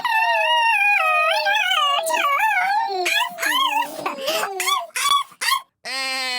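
A man imitates a dog with his voice, producing a long wavering howl that breaks into choppy yips and whimpers, then ends in a drawn-out whine, loud and close.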